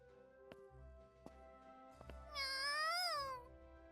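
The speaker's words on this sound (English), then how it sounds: "Kitty!" A cat meows in a Super Neptunia RPG game scene, a drawn-out, wavering cry rising and falling over a low musical backdrop with a few sharp percussive hits.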